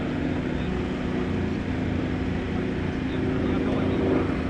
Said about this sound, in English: From the right, Kevin's got that throttle all the way up.